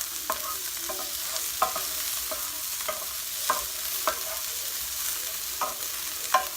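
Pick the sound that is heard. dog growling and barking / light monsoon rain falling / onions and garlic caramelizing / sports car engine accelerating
onions and garlic caramelizing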